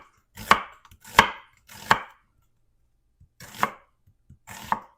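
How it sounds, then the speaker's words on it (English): A knife slices through onions in five crisp, separate cuts, three in quick succession and then two more after a short pause, in an otherwise quiet room. "let me go ahead and get these onions sliced up"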